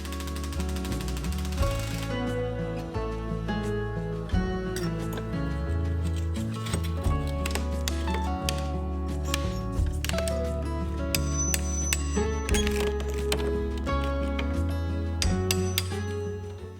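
Stubborn door frame fixings on a workshop door are cut off with a power tool, giving a continuous loud, harsh grinding and rattling buzz close by, with metallic clinks scattered through it.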